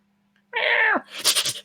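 A house cat gives one loud, close, drawn-out meow, followed by a brief breathy sneeze-like huff, with a faint steady hum underneath and no talk.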